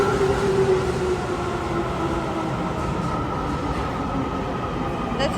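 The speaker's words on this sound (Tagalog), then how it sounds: "That's a train! That's a train!" A train rumbles past in Tokyo, a loud, steady roar of wheels and motors that fills the whole stretch from start to finish, close and continuous.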